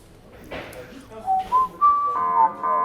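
A person whistles a short, rising tune of sustained clear notes, with faint background noise beneath.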